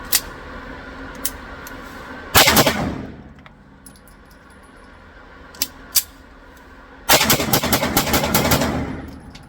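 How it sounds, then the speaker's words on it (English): Colt 9mm Combat Commander pistol with Wilson Combat parts firing 124-grain HST carry ammunition in two loud rapid bursts of shots, with a few isolated sharp pops between them. "This is going to be a tactical mag dump of my preferred carry ammo."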